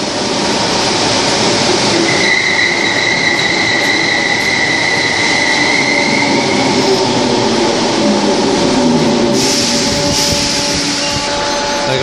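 A Merseyrail Class 508 electric train rumbles past loudly and continuously at Moorfields station, with steady motor whine and a faint squeal of wheels on the rails.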